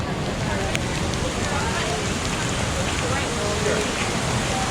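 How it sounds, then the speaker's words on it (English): Steady, dense rain patters continuously at Disney's Animal Kingdom theme park, a broad hiss with scattered drops, unbroken throughout. "Still raining."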